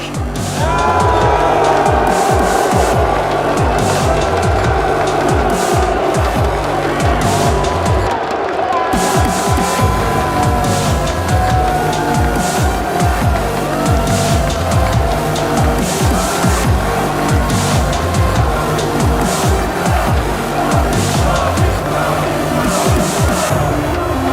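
A large arena crowd at a PGL Major esports event in Antwerp roars and cheers continuously and loudly, a dense wall of noise with no pauses.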